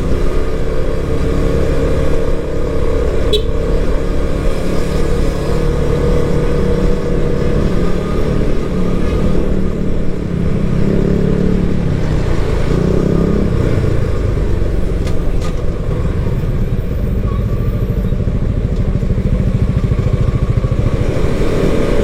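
A Suzuki V-Strom 250SX with a single-cylinder engine hums in a steady, unbroken drone while being ridden, mixed with constant wind rush, with no speech.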